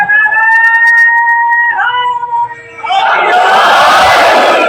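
Gathering at an imam bargah in Dera Ghazi Khan during a majlis, a leader's sustained chanted call followed by the crowd answering in a loud collective roar of slogans.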